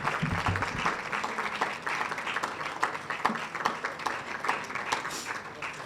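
Another round of audience clapping after a lecture, a steady wash of many hands at moderate distance, with a brief murmur of a voice early on beneath it.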